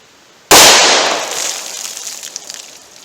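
A single loud .357 Magnum revolver shot with a Speer Gold Dot round, fired single action into a ballistic pack outdoors: one sharp, close crack that rings out and decays over a couple of seconds.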